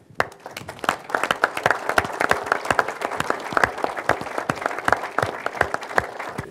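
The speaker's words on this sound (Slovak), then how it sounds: "Takže ten najväčší potlesk patrí vám," An audience at a business-values panel discussion in Bratislava applauds with dense, lively clapping that carries evenly from start to end, a few individual claps standing out up close.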